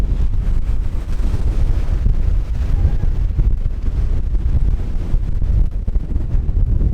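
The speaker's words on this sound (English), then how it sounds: "Really massive waves." Massive waves crash where the Magdalena River meets the Caribbean Sea off a breakwall at Barranquilla, a loud continuous roar of surf heavily buffeted by wind on the microphone.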